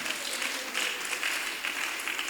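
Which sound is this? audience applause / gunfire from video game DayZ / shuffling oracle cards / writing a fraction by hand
audience applause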